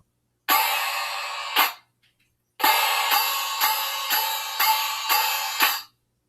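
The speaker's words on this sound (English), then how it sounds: "Now let's move over and hear the crash of the cymbals." Crash cymbals struck together, one loud bright wash that cuts off with a choke, a pause, then a run of six repeated crashes in quick succession, each a dense hissing metallic splash, close and loud.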